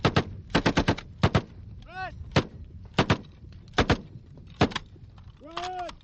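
An M60 machine gun fires in short, loud bursts and single cracks, spaced unevenly across several seconds, with a couple of ringing metallic echoes between shots.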